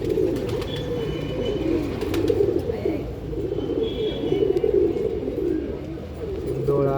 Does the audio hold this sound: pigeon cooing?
yes